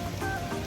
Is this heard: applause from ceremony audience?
no